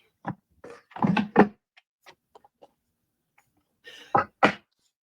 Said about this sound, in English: Got a cough. Excuse me.